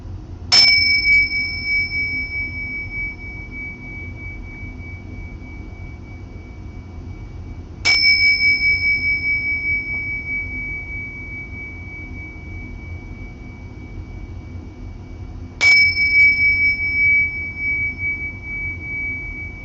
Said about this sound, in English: let's ring the bell, David.